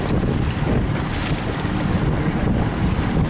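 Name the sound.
wind blowing on a boat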